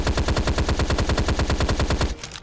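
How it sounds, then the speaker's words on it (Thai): Rapid, evenly spaced bursts of gunfire from a boss shooting bullets in the video game The Shadow of Yidhra, loud and continuous for about two seconds before cutting off abruptly. "เข้าเฟสสองแล้วมันยิงกระสุนได้ระวังด้วย"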